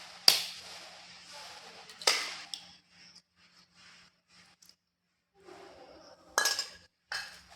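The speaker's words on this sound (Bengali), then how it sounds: "2টো ডিম ফাটিয়ে এর মধ্যে দিয়ে দেব।" Two eggs cracked against a bowl holding a gram-flour mixture, sharp close taps and clinks at scattered moments with soft handling sounds and quiet gaps between.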